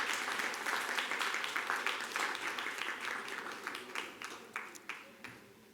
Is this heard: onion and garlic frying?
no